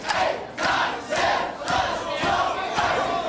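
A pro wrestling arena crowd chants a count in unison, with about five loud rhythmic shouts timed to repeated elbow strikes. The roar is dense and reverberant.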